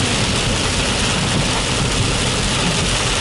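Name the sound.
heavy tropical rain downpour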